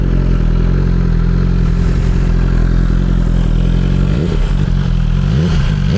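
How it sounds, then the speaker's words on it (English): BMW S1000XR M Package sport-touring motorcycle exhaust, loud and close, idling with a steady deep rumble before sharp revs swell near the end, no talking. "So here's the sound of the exhaust."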